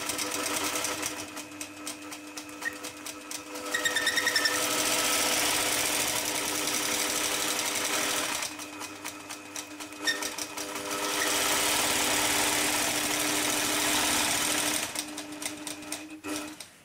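Longarm quilting machine stitching a clamshell design on a quilt sashing, a steady fast mechanical whir of needle strokes running continuously in long bursts with brief slower pauses between them.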